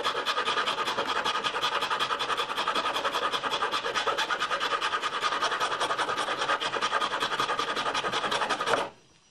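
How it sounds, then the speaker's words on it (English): A hand file rasps steadily over a wooden instrument bridge being roughed out, rapid repeated strokes close and loud with no talk, stopping abruptly near the end. "Keep on going with that file and you'll get through to as deep as you want"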